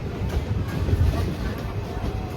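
Early-morning passenger train between Shivamogga and Tumkur, heard from inside as a loud, continuous low rumble with faint rhythmic clatter of the wheels on the rails.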